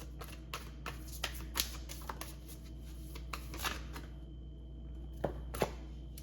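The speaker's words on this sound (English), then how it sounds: "Let's get another card." Tarot cards being shuffled and drawn: a quiet run of crisp riffling flicks and soft taps, close and faint, with brief pauses and a couple of sharper snaps near the end.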